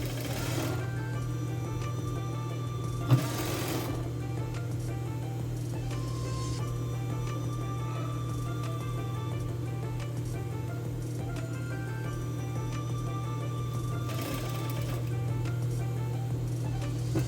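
A sewing machine runs steadily, stitching a 1 cm seam to join the sleeve of a casual A-line dress with tulip sleeves, its close, even motor hum broken by a few brief pauses and fabric shuffles.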